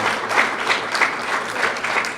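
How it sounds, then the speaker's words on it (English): An audience at a religious gathering gives a short burst of applause, a dense, fairly close patter of many hands clapping continuously for about two seconds. "Give yourselves a round of applause, people."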